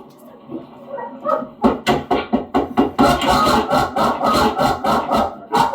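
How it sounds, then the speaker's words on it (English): Several dogs bark over and over, loud and close, with yips and whimpers mixed in. The barking turns into a fast, steady string of sharp barks, with muffled voices and door banging faintly underneath. "Slamming on the door to get the dogs going"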